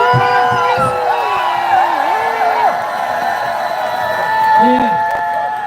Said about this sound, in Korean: 우리 만명희 여사님께 다시 한번 큰 함성과 박수 부탁드리겠습니다